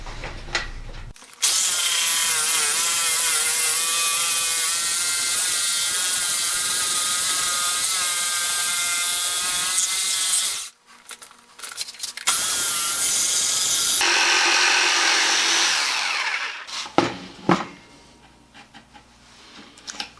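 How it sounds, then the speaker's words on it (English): A Skil Classic 3.2 amp Model 4395 jig saw set to auto scroll cuts curves, giving a loud, steady buzzing motor whine for about nine seconds, a short pause, then a second cutting burst that tapers off into quieter clatter. "Now I'm going to switch it over to auto scroll just to see whether I can make the thing cut curves any better"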